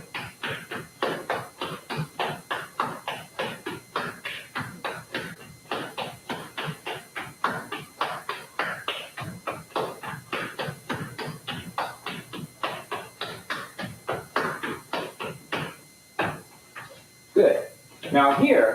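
Appalachian flatfooting dance, recorded on a 1996 VHS workshop tape, with steady rhythmic slap steps and chugs on a wooden floor, dozens of sharp percussive foot strikes in a continuous pattern, and brief voices near the end.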